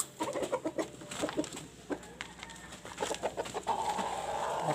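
A frightened chicken clucking close by in a rapid, uneven series of sharp clucks, ending in a steadier noisy stretch with no talking.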